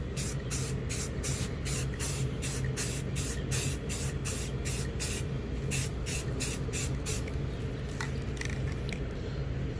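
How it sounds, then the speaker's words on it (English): A flat black spray paint can hisses in a quick series of short bursts over steady background noise, close by, then falls quiet near the end. "let's go ahead and spray it down."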